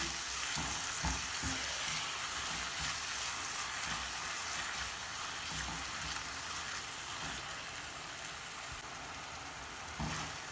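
Grated tomatoes cook in a pan with green chillies, giving a steady, close hiss of frying that runs throughout, broken by a few soft knocks of a spoon stirring.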